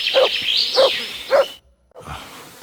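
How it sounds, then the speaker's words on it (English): Mutz, a dog in Kingdom Come: Deliverance 2, gives three quick, close barks at an even pace, falls briefly silent, then lets out one more fainter bark or yip. "Good dog, Mutz."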